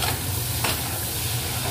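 Prawns frying with bitter gourd and potato, a close, continuous sizzle with a stirring scrape partway through, no one talking.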